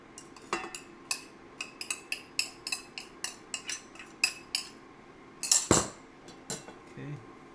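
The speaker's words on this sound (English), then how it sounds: "I'm going to go ahead and add the cauliflower rice" Cauliflower rice being added to an oiled pan on an induction burner, a rapid series of sharp metallic clinks and scrapes of a utensil against the pan, close and distinct, with a louder clatter near the end.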